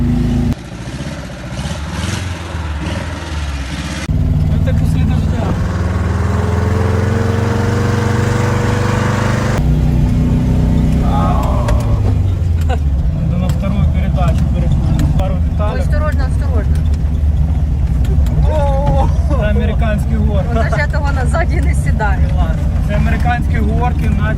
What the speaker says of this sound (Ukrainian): Їдемо кататись на червоному запорожці